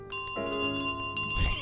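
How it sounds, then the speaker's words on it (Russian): Game bell from Untitled Goose Game, jingled as a goose carries it off, rings in bright repeated strikes over a busy backing of game music. "Они все хотят заполучить себе колокольчик."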